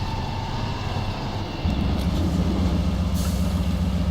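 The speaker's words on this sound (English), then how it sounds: "Hear my gears grinding." Heavy truck drivetrain in the Spintires off-road game at half throttle on a volcano map, a low rumbling engine drone that steps up louder partway through and holds a steady grinding hum.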